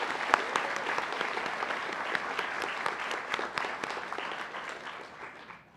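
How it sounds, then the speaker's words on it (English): Applause from an audience at a college honors convocation, a dense clapping that carries for several seconds and then thins and fades out. "We can applaud them one more time."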